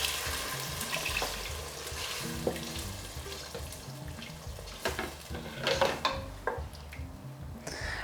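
Coconut milk pours into a simmering vegetarian Indian curry, giving a steady close-up hiss and bubbling sizzle with a few soft pan knocks and no talking.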